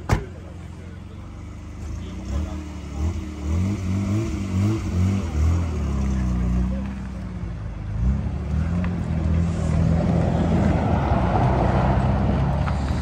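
A Nissan GT-R pulls away and accelerates with its engine note climbing through the gears, nearby at first and then settling into a broad, sustained roar with road noise.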